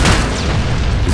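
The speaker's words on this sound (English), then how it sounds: "Grenade out." A thrown grenade detonates in Valorant Mobile with a single loud, close boom that fills the short moment and rumbles without any clear tail.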